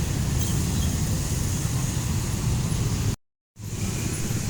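Road traffic jam beside a bus agent stop on the street by a suspension bridge, a steady broadband rumble of idling and creeping vehicles that briefly drops out before resuming.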